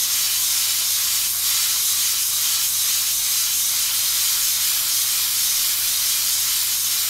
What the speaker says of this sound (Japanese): しかも蒸気のモードはマックスでやってますけど、ダメですね。